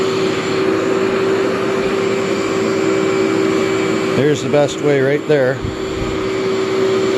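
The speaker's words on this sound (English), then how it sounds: "Nothing worse than vacuuming a whole room and realizing that it's like, oops, I didn't vacuum anything." A Workhorse vacuum cleaner runs on carpet, a loud continuous motor drone with a steady whine, while someone talks briefly over it near the end.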